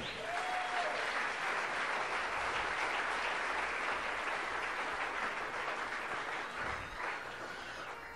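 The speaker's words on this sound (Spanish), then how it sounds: "Dele un aplauso a Dios." A church congregation at a Spanish-language service gives sustained, dense applause that fills the room steadily at moderate volume, with no speech over it.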